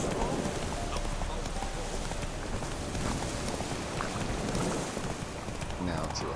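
Roach, a horse in The Witcher 3, gallops with a rapid, continuous clatter of hooves over steady ambient noise, with a voice speaking faintly underneath.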